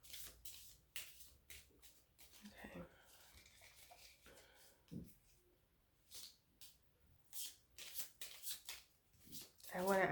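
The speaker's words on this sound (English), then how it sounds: "I'm shuffling in my lap, so we'll see how this goes." Tarot cards shuffled in a lap, producing repeated short papery riffling bursts spread through the passage, with a person talking between and over them.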